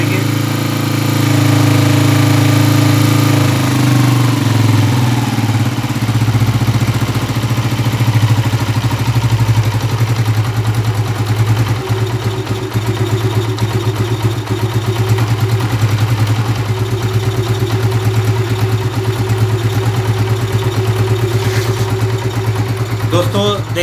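A Honda CG125 Euro2 motorcycle engine idles steadily with a constant low mechanical throb, loud and close throughout, its pitch easing slightly as the revs are brought down while someone talks over it.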